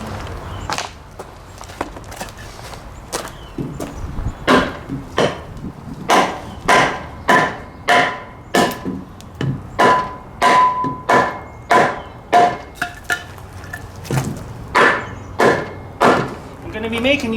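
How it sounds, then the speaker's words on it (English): A hammer strikes a block of wood during assembly of a Woodland Mills HM126 sawmill head, delivering about twenty sharp, close knocks in a steady, slightly uneven rhythm, with faint background noise between blows. "I'm gonna need a hammer and a block of wood"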